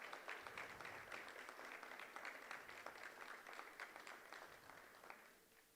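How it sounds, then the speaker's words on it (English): An audience applauds at the Combating Corruption Summit 2025, dense steady clapping for several seconds that fades out near the end. "I think another round of applause."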